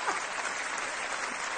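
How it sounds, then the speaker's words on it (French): An audience claps for children after a partner dance performance, a brief, steady burst of dense applause that stays even throughout. "Ah ben les applaudissements"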